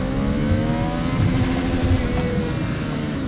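A Triumph Trident roadster accelerates hard, its engine roaring loud and close with a steady rising drone and no voices heard.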